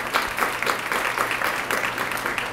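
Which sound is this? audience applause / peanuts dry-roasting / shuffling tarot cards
audience applause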